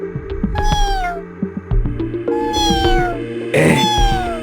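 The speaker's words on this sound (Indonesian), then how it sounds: "Itu kucing siapa?" A cat meows several times, long drawn-out cries rising and falling, loud and close over a low background hum.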